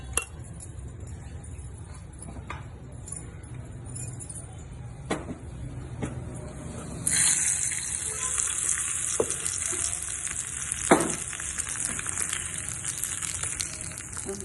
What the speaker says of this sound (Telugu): ఇప్పుడు పోపు పెట్టుకోవాలి.